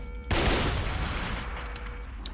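Weapon fire from the game Shogo: Mobile Armor Division starts abruptly as a loud, dense burst of gunfire and rolls into a sustained rumbling roar that gradually fades, with a sharp metallic click near the end.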